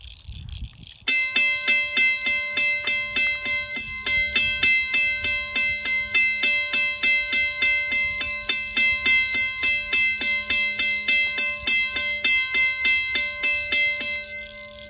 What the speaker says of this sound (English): And now I'll show this bell ringing.